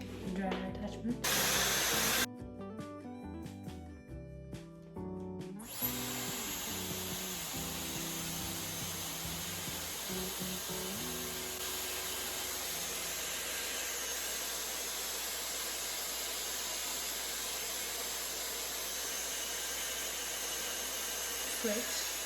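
A Dyson Airwrap with its dryer attachment blows a steady, loud whooshing airflow that starts after a few seconds of brief handling noise and then runs continuously.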